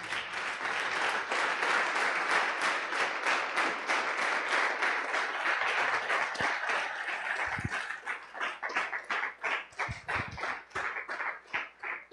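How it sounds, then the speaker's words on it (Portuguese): A church congregation applauds with dense, steady clapping that keeps going, then thins into scattered, separate claps toward the end. "Eu no teu lugar estaria aplaudindo o Senhor"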